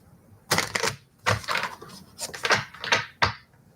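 A deck of cards is shuffled several times, with crisp bursts of riffling and snapping separated by short pauses, close up.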